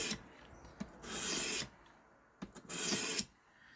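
A knife blade drawn across the abrasive of a WorkSharp Precision Adjust sharpener, fine grit, in two sustained raspy strokes with short taps between them, close and fairly quiet.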